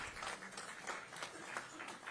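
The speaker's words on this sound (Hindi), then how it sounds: "जोरदार तालियां बजाते रहें।" An audience applauding at an award ceremony, a faint, steady wash of many hands clapping from a distance throughout.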